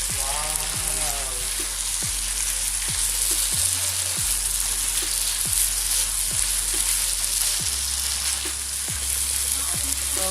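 Prawn Manchurian sizzles and fries loudly in sauce in a pan, with a continuous crackling hiss and repeated rhythmic scraping thumps as it is stirred and mixed.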